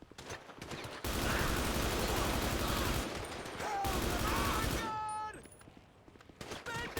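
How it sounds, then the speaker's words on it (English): Loud, dense automatic gunfire fills a video game battle in sustained rapid bursts with brief pauses, while players talk over it. "They're shooting you dead, huh?"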